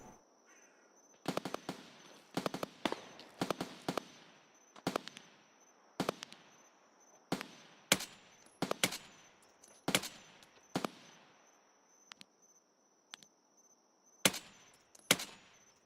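Gunfire in the shooter game Escape from Tarkov: about fifteen sharp, fairly distant shots come in irregular single reports and short clusters over a quiet background.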